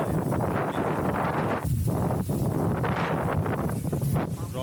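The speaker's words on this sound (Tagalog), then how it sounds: "Grabe, lakas ng hangin dito." Strong wind roars steadily across a campsite, a dense, continuous blast buffeting the microphone with rustling gusts that barely let up from start to finish.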